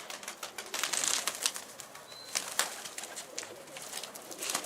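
Pigeons coo softly while wings flap in bursts nearby, a dense flutter of clattering wingbeats over continuous rustling.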